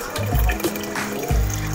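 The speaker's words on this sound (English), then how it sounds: "Pour milk." Evaporated milk pours from a can punctured with a knife into a drink, a short splashing liquid stream with gurgles, close by and fairly loud, with no voices.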